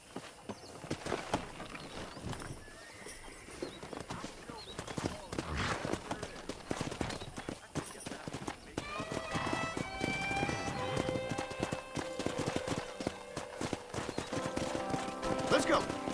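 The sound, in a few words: horses galloping and neighing in video game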